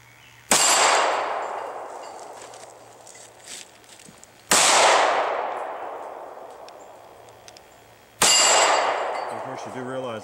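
Three loud, close S&W M&P Shield 9 pistol shots, a few seconds apart, each sharp crack followed by a ringing clang of the bullet striking 8-inch steel plates, with a long metallic decay and no speech.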